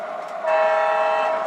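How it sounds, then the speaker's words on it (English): An MTH Proto 3 O gauge diesel model locomotive sounds its horn, a single sustained chord that swells in and holds steadily, loud and close above the faint background of the layout. "routine to honk the horn when the engine goes past the detector"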